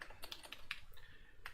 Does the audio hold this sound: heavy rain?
no